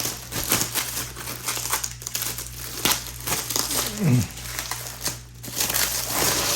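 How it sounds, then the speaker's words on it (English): Plastic wrap being peeled and pulled off the parts of an Amazon Basics 16-inch pedestal fan, giving close, loud crinkling and crackling in bursts over a steady low hum. "now we got to get this plastic off, which is ridiculous"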